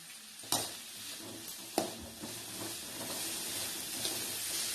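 Onions sautéing in a pan for fish thokku give a steady soft sizzle, with a few sharp scrapes and knocks of stirring near the start, fairly quiet and with no talking.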